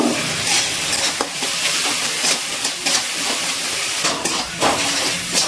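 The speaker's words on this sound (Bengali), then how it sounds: "সব কিছু ভালো করে মিশিয়ে খুব ভালো করে কষিয়ে নেব" Spice paste with a splash of water stir-fried in a pan for a duck egg, potato and cauliflower curry, a loud steady hissing sizzle with rhythmic scraping stir strokes throughout and no voices.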